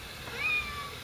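A friendly cat gives one soft, drawn-out meow, faint against a steady background hiss.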